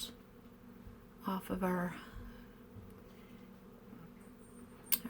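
A honey bee swarm buzzes in a backyard, a faint steady hum heard under brief close talking.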